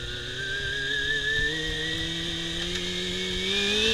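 A road motorcycle engine drones steadily while riding, a sustained whine slowly climbing in pitch, loud and close with no talk.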